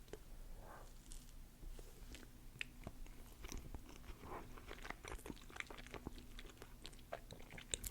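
Close, quiet chewing of a soft South Korean custard cake snack, with soft crunchy and squishy mouth sounds repeating steadily and no talking.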